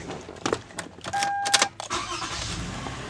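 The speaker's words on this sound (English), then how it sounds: "Okay, now we're going to go ahead and start the vehicle up." A 2009 Toyota Sienna minivan engine cranks and catches, a short close burst of starter whir and ignition that settles into a running idle.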